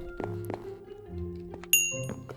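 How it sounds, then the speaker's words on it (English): A Golemancer's bell from the Thaumcraft mod for Minecraft rings once with a bright, sharp metallic ding that rises clearly above a low game-music drone, leaving a short shimmering ring. "It's just ringing it. I'm just ringing the bell."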